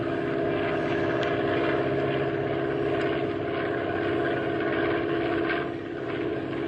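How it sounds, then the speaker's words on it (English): A propeller plane drones steadily as a radio drama sound effect, a loud continuous engine roar with a rough buzzing texture that holds almost unchanged throughout. "And there goes the plane, with Richard at the controls."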